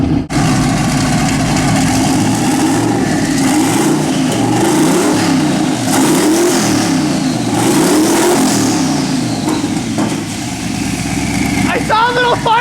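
A twin-turbo 5.2 Magnum truck engine revs hard in a shop, loud and close, rising and falling in repeated surges over a rumbling idle, with people talking over it and a brief high whine near the end.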